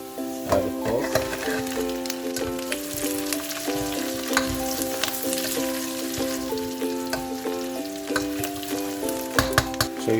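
Pork added to a pan of browned garlic for pork adobo sizzles and spits continuously, with irregular crackles over a steady background of melodic music.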